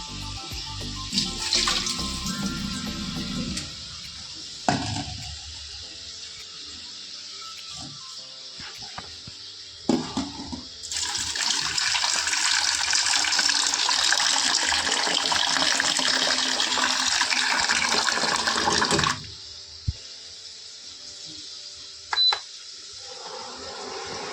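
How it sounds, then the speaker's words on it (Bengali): Water runs from a household tap into a vessel, a steady, fairly loud rush for about eight seconds in the middle, framed by scattered clanks and handling knocks in a quiet room. "জল ভরতে হবে"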